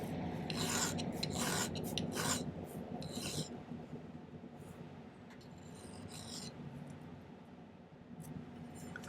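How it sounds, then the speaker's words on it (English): A hand file rasps a notch into silver metal in a jewellery workshop, with several close, scratchy back-and-forth strokes early on and softer rubbing filing continuing afterward. "So I'm going to start by filing a notch a little ways in after I file the end flat."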